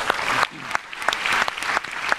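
An audience applauds a barongsai lion dance team, the Kong Ha Hong troupe from Jakarta, at a live TV show. The clapping comes in uneven surges that fade between bursts.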